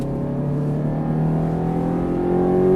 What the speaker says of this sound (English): Squeeze on the throttle, find your exit point, and now roll into the throttle.